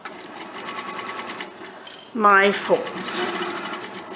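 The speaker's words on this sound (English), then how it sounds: "Then I am going to baste along this line." A sewing machine bastes along a folded fabric edge, starting with a rapid rising whir that steadies into a close, continuous stitching hum, with someone talking before and over it.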